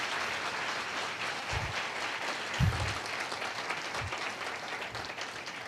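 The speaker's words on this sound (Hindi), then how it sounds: "आइए हम प्रभु के लिए, अपने प्रभु के लिए एक ताली बजाएंगे।" A congregation at a church worship service claps together for the Lord, a dense, sustained wash of applause with a few louder hand claps standing out.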